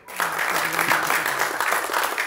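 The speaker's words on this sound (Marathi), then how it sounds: "त्यांच्यासाठी पहिल्यांदा टाळ्या वाजवा" Steady audience applause, dense and sustained clapping throughout, fairly close and loud.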